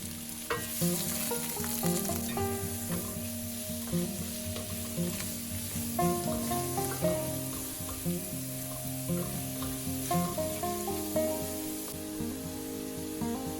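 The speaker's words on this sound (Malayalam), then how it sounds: "അതിനകത്തേക്ക് നമ്മൾ സവാള നീളത്തിൽ അരിഞ്ഞു വെച്ചതും 2 പച്ചമുളകും ചേർത്ത് നന്നായിട്ട് വഴറ്റി കൊടുക്കാം." Long-sliced onions and two green chillies sauté in coconut oil in a Kerala kitchen, sizzling steadily while a utensil stirs and scrapes the pan in repeated strokes, with no talking.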